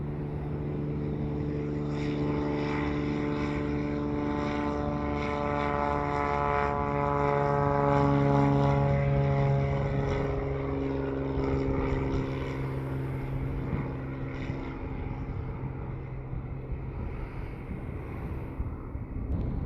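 WestJet airliner taking off from runway 07 in Jamaica, a steady loud engine roar with a strong droning whine that swells and holds, heard from nearby with some wind buffeting.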